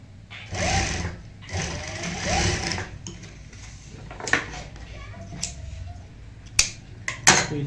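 An electric sewing machine stitches piping onto a garment neckline, running in two steady bursts of fast whirring, then pausing among clicks and handling noises, close by.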